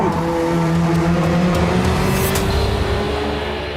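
A race car on a track pulls alongside and passes another car, with a loud sustained engine drone, rising and shifting engine tones and a faint tire squeal, all up close with no talking.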